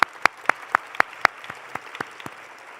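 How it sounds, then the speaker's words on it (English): Sparse, isolated claps ring out one at a time in a steady rhythm at a White House celebration of AA and NHPI heritage, with a few loud claps at first and then fainter ones thinning out, no voices over them. "Yes, we could applaud."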